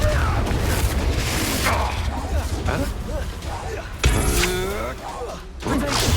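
Confringo and Bombarda spells blast in Hogwarts Legacy, the booming spell explosions thudding under shouted voices and busy combat noise, with a sharper burst about two-thirds of the way through.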